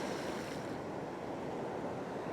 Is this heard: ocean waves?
yes